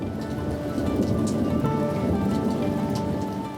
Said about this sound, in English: it only takes a rumble of thunder and a summer rain shower for the Stumpies to forget breakfast and head back indoors